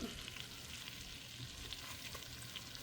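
Butter sizzles and crackles steadily in a pan over the heat, the first step of a potato soup, a dense continuous frying hiss with no talk over it.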